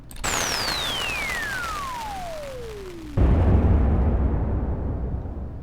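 A synthetic firework made in Reaktor 6: a whistling tone sweeps steadily downward for about three seconds, then breaks into a loud, sustained rumbling burst with delay and reverb that slowly fades.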